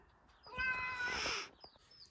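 A cat gives a single drawn-out meow lasting about a second, fairly close and clear against a quiet background, with no one speaking.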